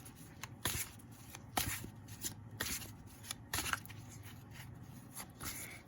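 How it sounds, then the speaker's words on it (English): Tarot cards are shuffled close up in repeated riffling bursts, crisp flutters separated by brief pauses. "It's almost difficult to shuffle"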